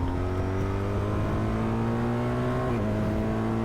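A motorbike on the Northumberland 250 route accelerates steadily, its engine note rising in a continuous, loud drone with a brief shift in pitch partway through.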